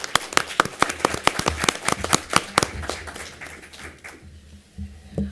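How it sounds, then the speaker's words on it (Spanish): Scattered applause from a small audience at an authors' association panel on cultural journalism, sharp uneven claps thinning out and fading after about four seconds into quieter room noise. "Un aplauso, por favor"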